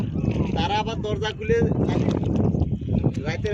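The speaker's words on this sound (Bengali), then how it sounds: "নৌকা পানিতে চলছে আর ঢেউ আর ঢেউ। আজকে অনেক বাতাস" A moving boat out on Thakur Beel wetland in strong wind, steady wind roar buffeting the microphone with water splashing beneath, continuous and close throughout while people talk over it.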